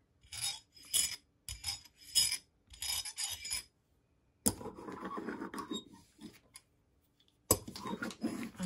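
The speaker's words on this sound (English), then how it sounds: "that noise is I'm just cleaning off my brayer a bit so that the paint doesn't" Paint-coated brayer roller being cleaned for Gelli printing, giving a series of short, close rasping rolls and rubs in quick bursts, then a longer stretch of scraping friction, a pause, and another rough burst.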